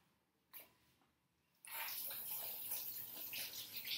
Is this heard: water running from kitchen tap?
yes